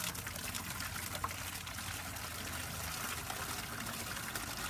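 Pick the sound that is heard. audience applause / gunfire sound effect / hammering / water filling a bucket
water filling a bucket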